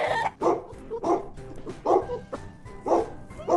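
A dog barks repeatedly at close range, about seven sharp woofs in an uneven rhythm with small whimpering sounds between them.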